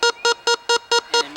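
A handheld sound source box for blind team handball, used to mark the ends of the field, emits seven loud, evenly spaced electronic beeps in quick succession, close and alone.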